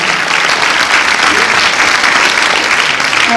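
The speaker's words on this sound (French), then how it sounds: "je vous demande d'applaudir Chantal Trichet." A Paris cinema audience at the premiere of Effacer l'historique applauds Chantal Trichet, a steady, full wash of clapping that stays loud and even from start to finish.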